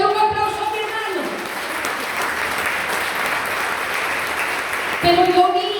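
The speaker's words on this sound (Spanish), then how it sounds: "Dale un aplauso a mi hermano." Church congregation applauding, a dense sustained clapping that fills several seconds before a voice cuts back in and speaks over it.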